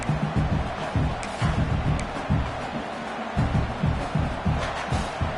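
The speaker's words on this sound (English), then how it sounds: "this crowd is fired up. Listen to this noise here." A video game college football stadium crowd at a Texas Tech versus Oregon game roars and cheers in rhythmic surges, a dense, continuous wall of voices with chant-like pulses throughout.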